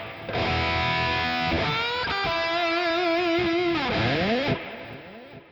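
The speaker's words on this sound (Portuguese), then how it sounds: "Cheio de delay, cheio de reverb e efeitos, mostrando que ele tem capacidade sim de montar sons complexos" Electric guitar played through a Valeton GP-5 multi-effects preset soaked in delay and reverb, distorted notes and a held chord sliding and repeating in long echoes before the sound cuts out.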